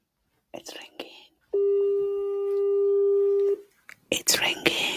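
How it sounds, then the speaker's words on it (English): A few soft whispers, then a single long, steady telephone ringing tone sounds for about two seconds before voices and noise return. "It's ringing."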